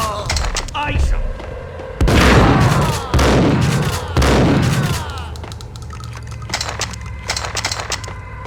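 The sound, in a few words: gunfire from the video game Max Payne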